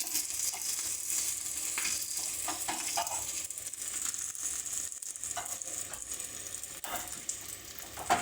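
Green chillies and coriander sizzling in a tempering, a faint, hissy crackle of hot oil with scattered clicks and stirring scrapes of a utensil against the pan, steady and close with no talk.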